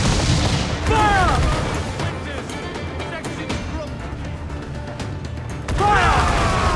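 Ship cannons fire in the naval battle game Assassin's Creed Black Flag: heavy booming blasts and a dense rumbling barrage, with crew voices shouting over the roar.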